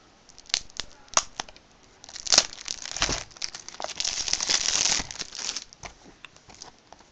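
Plastic shrink wrap is peeled off an Xbox 360 Ghost Recon game case in a run of close, irregular crinkles and tearing rustles, busiest in the middle and thinning to scattered crackles at the end.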